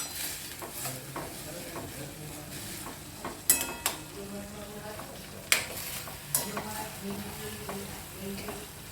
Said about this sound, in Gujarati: કોબી વટાણા બટેટા મિક્સ થઈ ગયા, એની ઉપર રાઈ ને જીરુંનું વઘાર પણ થઈ ગયો મિક્સ